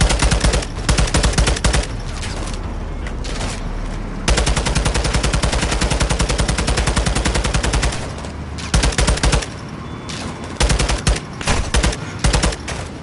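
Sustained machine gun fire in Call of Duty Modern Warfare 2 rattles in long, rapid bursts, loud and close, with brief gaps between strings of shots and no talk over it.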